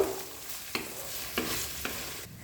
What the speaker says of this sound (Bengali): আলুর সাথে মিশিয়ে নিয়ে এটাকেও হালকা ভাজা ভাজা করে নেব